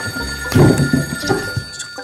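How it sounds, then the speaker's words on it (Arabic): A telephone rings indoors in a home scene from an Egyptian Arabic children's show, a busy, fairly loud ring that rises sharply and then fades over about two seconds. "التليفون بيرن، قوم رد عليه."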